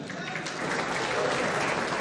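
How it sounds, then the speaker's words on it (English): Audience applause at a public engagement in Nakuru, a steady dense patter that swells slightly toward the end, with voices mixed into the clapping. "Clap for her."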